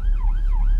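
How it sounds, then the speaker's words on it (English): A police car siren wails loudly and close, its pitch sweeping up and down in a steady cycle over low road rumble, with no voices. "We've got a police car coming."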